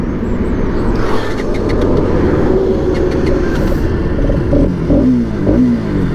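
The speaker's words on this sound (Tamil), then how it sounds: "வண்டியோட சவுண்டு தாங்க பயங்கரமாக இருக்குது." A 2025 RS 200 motorcycle engine runs loud and close, revving with a steady, throaty drone and slight pitch swells for about six seconds, with no talk over it.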